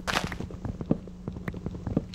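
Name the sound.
chopping down a birch tree in Minecraft video game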